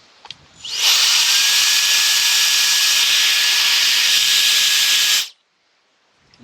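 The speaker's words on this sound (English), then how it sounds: "having a lot of fun with the little handheld fan" A TurboJet Pro handheld jet fan spins up quickly into a loud, steady high-pitched whooshing whine that holds for about four seconds, then cuts off abruptly, heard close up with no talking.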